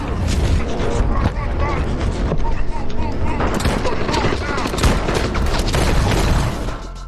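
Gunfire from a film scene in a forest sweep, dense bursts and impacts layered under a loud, busy soundtrack with speech-like elements throughout.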